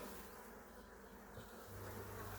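Steady, continuous buzzing of many honeybees close by at an opened hive during frame inspection, a dense droning hum that holds evenly throughout.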